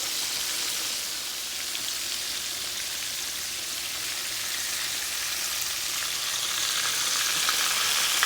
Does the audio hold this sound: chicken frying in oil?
yes